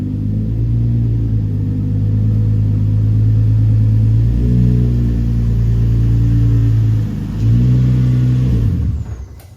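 Car engine pulling away after a drift event, a loud close rumble that rises and falls through gear changes before fading at the end.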